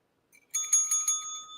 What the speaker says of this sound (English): so I have my bell